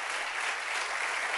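An audience applauds at a Spanish-language church program, with dense, continuous clapping heard up close that carries without a break through the moment.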